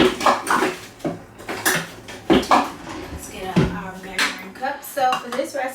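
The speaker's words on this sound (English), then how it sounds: "cream my butter and my sugar together" Butter and sugar are creamed together in a bowl for cookie dough, producing repeated clinks and scrapes of a utensil against the bowl in an uneven rhythm, close and fairly loud.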